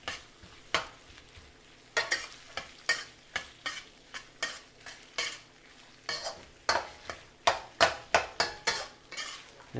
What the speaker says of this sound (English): we're stir frying on a pretty dang high heat